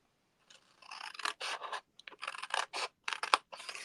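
Repeated crisp cutting sounds from trimming off part of a handmade paper Christmas gift box, coming in short close bursts with brief pauses and no talking.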